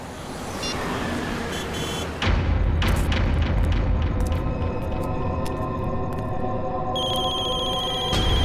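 Telephones ringing with a flood of incoming calls: a dense, loud wash of noise under which repeated electronic rings and bell-like tones keep sounding, with a steady high ringtone toward the end.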